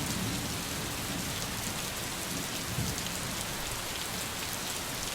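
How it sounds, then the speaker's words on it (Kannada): Steady drizzle falling over Bangalore, a continuous soft hiss of raindrops on surfaces with no voices, even and unbroken throughout. "ಬೆಂಗಳೂರಿನಲ್ಲಿ ಬೆಳಗ್ಗೆಯಿಂದಲೂ ಕೂಡ ತುಂತುರು ಮಳೆ ಆಗ್ತಾ ಇದೆ"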